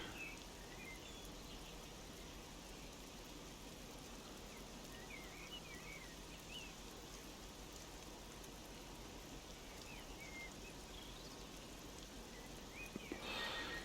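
Rain in the Train Simulator Classic game, on a Class 375 run from Gravesend to Tonbridge, falls as a constant, even hiss with a faint patter and a brief louder bump at the end.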